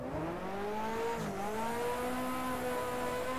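Race car engine at full throttle in the rFactor racing game on the Zolder circuit, a loud, steady high-revving drone with a brief dip in pitch as it shifts before climbing again.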